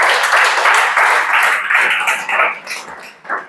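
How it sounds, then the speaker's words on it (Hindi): Students in a Hindi-medium police recruitment coaching class clap together in a dense, continuous round of applause that fills the room, thinning and breaking into scattered claps near the end. "ताली बजाओ 135 वर्ष के लिए"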